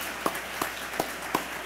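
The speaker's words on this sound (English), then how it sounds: "So that is an applause moment." Banquet audience at an award dinner, with four sharp, evenly spaced claps standing out above a faint room murmur, like the start or tail of scattered applause.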